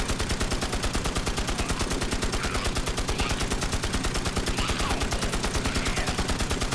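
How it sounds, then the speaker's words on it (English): Rapid, steady machine gun fire from the video game Magicka rattles without pause for the whole clip, loud and close, with no talking. "best weapon to fight demons. A machine gun."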